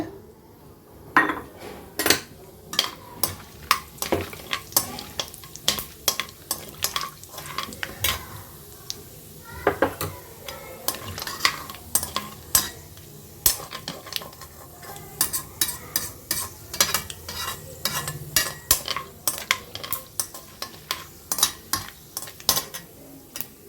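Cinnamon, cloves, cardamom and fennel frying in about fifty grams of oil for pepper gravy, with a light sizzle under frequent sharp metallic spoon clinks and scrapes against the pan throughout.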